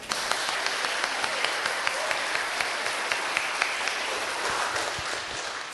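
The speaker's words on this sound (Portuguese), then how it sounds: "Vamos bater palma para ele?" An audience at an evangelistic concert at a school claps in dense, steady applause for nearly six seconds, with individual claps audible in the wash.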